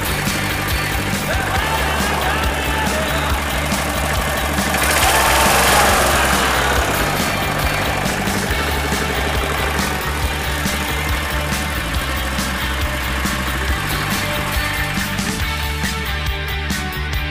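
An old 3.5 engine idles after a cold start, a steady loud rumble with a fast, regular ticking from the valves running through it, and no talk.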